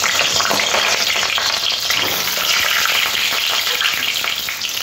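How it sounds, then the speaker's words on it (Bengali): Potatoes fry in very hot oil in a kadai for a Bengali chicken curry, producing a loud, dense, unbroken crackling sizzle right up close. "আলুগুলো এইরকমই ভাজতে হবে"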